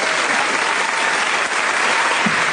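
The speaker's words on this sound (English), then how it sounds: "Will you please welcome Lucy Pinder, ladies and gentlemen?" A studio audience breaks into steady, loud applause that continues evenly throughout as a guest walks on, with no voices rising above the clapping.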